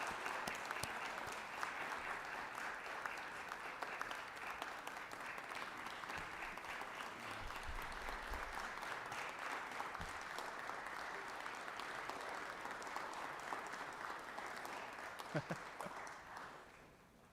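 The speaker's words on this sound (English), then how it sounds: "If you guys would give them a round of applause for the work they put in this process." Sustained applause fills a legislative chamber during a 2022 session day, a dense, steady clapping from many hands that holds at even loudness for about sixteen seconds before tapering off at the end.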